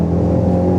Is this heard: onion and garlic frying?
no